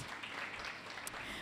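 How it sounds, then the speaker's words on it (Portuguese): Brief, faint applause from a church congregation at a women's meeting, a soft, even patter of many hands with no voices over it. "Aplauda ao Senhor"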